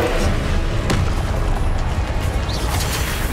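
Confringo spell explosions in the Hogwarts Legacy video game, a loud continuous booming barrage with a sharp crack just before the one-second mark and dense rumbling impacts throughout.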